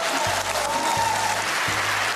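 Audience applause during a Polish comedy talk show, a steady broadband wash of clapping filling the clip at moderate loudness, with low periodic thumps beneath it.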